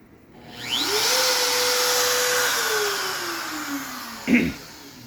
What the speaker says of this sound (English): We'll fire up the old spindle just to see if it works.